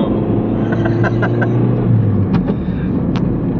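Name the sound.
car engine accelerating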